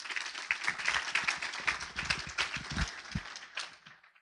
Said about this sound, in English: I would like for you all to applaud yourselves for the work that you're doing